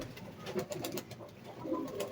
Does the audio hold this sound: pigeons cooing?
yes